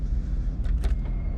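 An airliner's landing gear retracts after takeoff, a short whirring and clunking burst of mechanism over a steady low cabin rumble, with several brief knocks in quick succession in the middle.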